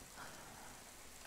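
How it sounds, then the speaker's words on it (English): Steady soft hiss of rain falling, a constant even patter with no voices or other sounds. "It's raining out there."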